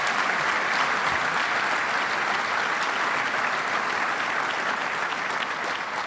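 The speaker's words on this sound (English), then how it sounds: "Let's please give a round of applause to everybody who's volunteered today." Sustained audience applause for volunteers at a Little Rock touchdown club luncheon, dense, even clapping from a large crowd filling the room, loud and steady for several seconds with no speech over it.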